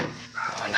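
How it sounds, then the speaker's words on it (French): A dog barks and yips in short bursts inside or near a parked Mercedes CLK as someone speaks briefly over it. "Désolé pour le chien."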